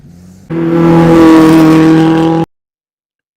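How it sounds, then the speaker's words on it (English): Vintage race cars climbing the Rossfeldrennen historic hillclimb course, among them a Renault Alpine 110, rise into one loud, close engine roar with steady droning harmonics that holds for two seconds, then cuts off abruptly. "here we are with the oldest cars of the event going uphill"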